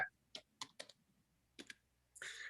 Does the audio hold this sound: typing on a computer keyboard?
yes